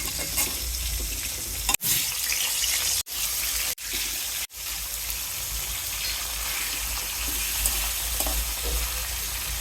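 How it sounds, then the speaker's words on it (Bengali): Katla fish pieces fry in oil over a very low gas flame, making a continuous close crackling sizzle broken by a few sharp clicks or knocks, with no talking. "মাছ ভেজে নিচ্ছি অল্প অল্প করে গ্যাসের তাপ একেবারেই কম"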